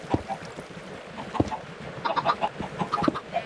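Chickens on a Minecraft chicken farm cluck and squawk repeatedly, with several birds overlapping in short, busy bursts that grow denser toward the end.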